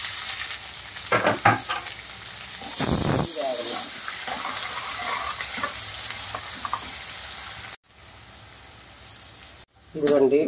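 Onions frying in a pan, a continuous crackling sizzle with stirring and a few short breaks, while a person talks over it at intervals.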